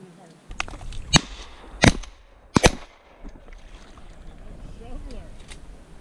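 Shotgun blasts during a Florida duck hunt: three sharp, loud reports in quick succession, each cracking out then fading, followed by quieter outdoor ambience with some faint voices.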